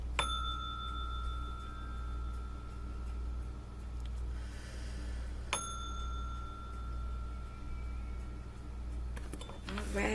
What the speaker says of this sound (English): We're going to ring this bell and get started with the reading.